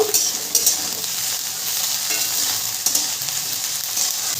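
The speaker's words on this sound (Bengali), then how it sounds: "সমস্ত সবজিটা আমি ভালো করে ভেজে নেব।" Mixed vegetables including peas fry in a pan for navratan dal, a bright, loud, steady hiss of oil with occasional spatula scrapes and stirring clicks close up.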